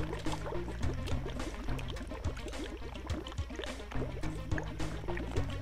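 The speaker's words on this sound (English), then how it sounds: "Lots of bubbling and burbling." Liquid bubbling and burbling in a video game, a dense stream of wet pops and gurgles over a low droning hum, steady and fairly close.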